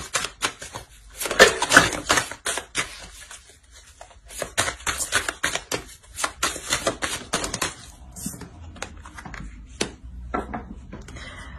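Tarot cards are shuffled and drawn by hand, making a long run of quick, crisp flicks and riffling clicks. The clicks come in dense bursts at first, then grow sparser and softer.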